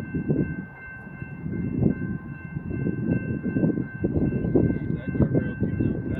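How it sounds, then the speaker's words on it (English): A westbound BNSF intermodal freight train rumbles steadily nearby, a continuous low roar of rolling cars with a faint tonal hum above it, sustained throughout. "we got an incoming westbound intermodal BNSF freight train coming in"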